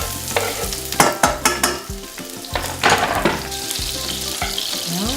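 Garlic and shallot sizzle steadily in a hot frying pan while a utensil stirs and scrapes, its sharp knocks against the pan standing out over the constant crackle.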